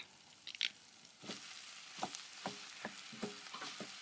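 Onions softened with scotch bonnet fry quietly in a pan for shepherd's pie, and a faint crackle rises into a soft sizzle broken by several light stirring scrapes.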